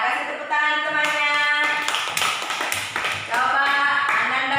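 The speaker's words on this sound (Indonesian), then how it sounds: "Ya, kasih tepuk tangan temannya." A class of young children gives a round of rhythmic applause for a classmate, sharp patterned claps blended with lively chanting voices nearby.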